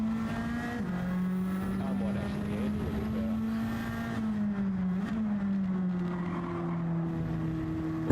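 Race car engine in Gran Turismo 7 holding a steady high drone, rising and dipping slightly as it revs, loud and continuous throughout with a voice talking over it.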